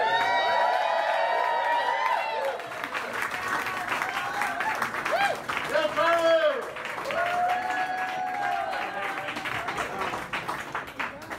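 An audience claps and cheers for the band at a live show at The Lilypad, a steady wash of applause with whoops rising and fading, while a voice speaks over it.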